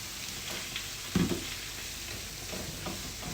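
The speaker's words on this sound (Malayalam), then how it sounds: "ഇനി നമുക്കൊരു തക്കാളി ചേർത്ത് കൊടുക്കാം" A medium-sized tomato sautés in a pan for Kerala-style fish biryani: a soft, steady sizzle with light stirring and a brief scrape of the utensil partway through.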